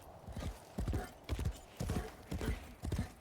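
Horse hooves clip-clop in a steady galloping rhythm during a video game horse race, clusters of hoofbeats repeating about every half second over a soft background hiss.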